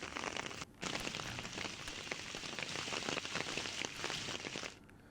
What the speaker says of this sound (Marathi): रत्नागिरीत सलग दुसऱ्या दिवशी अवकाळी पाऊस बरसला।